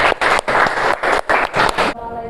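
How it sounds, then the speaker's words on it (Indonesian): Vocational high school students in a classroom clap for a presenting group in several bursts of close, loud applause, then fall quiet as it ends. "beri tepuk tangan untuk kelompok 1"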